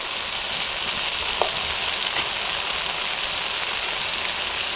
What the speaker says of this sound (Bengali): আলুটা সেদ্ধ হয়ে যাবে আর ঝাল রসুন দিয়ে দেবো হলুদ গুঁড়ো,